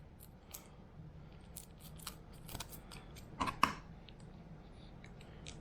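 Scissors snip the fins off a small bait fish in a few quiet, sharp clicks and crunches, close up and alone.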